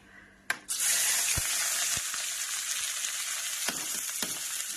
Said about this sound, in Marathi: आपलं रायचं तेल गरम झालं आणि त्याच्यामध्ये मी दिलेलं आहे टाकून हिरवी मिरची लसण आणि कांदा